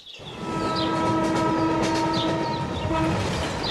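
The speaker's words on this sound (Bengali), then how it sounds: "ট্রেন যায় একেবারে ওদের বাংলোর সামনে দিয়ে" A train rolls past close by, a loud steady rumble with a sustained horn tone ringing over it for a couple of seconds, then returning briefly.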